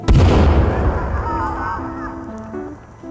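A loud boom from a bomb hits at the start and its rumble fades away, while tonal game music plays over it, in the video game Sons of the Forest.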